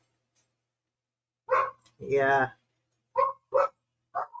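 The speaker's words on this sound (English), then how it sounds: "my neighbor's dog just started barking, so sorry about that if you hear that" A neighbor's dog barks outdoors at a distance, a handful of separate woofs with one longer bark in the middle and irregular gaps between them, while someone briefly speaks.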